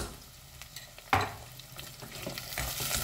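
Spoon stirring tomato paste into potatoes frying in a pan for meatballs, a soft scraping sizzle with one sharp clink near the start, steady and close throughout with no talking.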